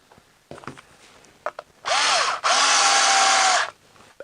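A power drill drives screws into a very large lathe faceplate, with a few light clicks followed by two close, loud bursts of whirring motor, the second longer and rising slightly in pitch.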